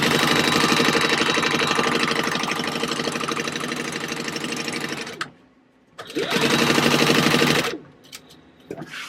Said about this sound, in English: I've got a 4 stitch length and I'm just going at 1/8 inch down the left side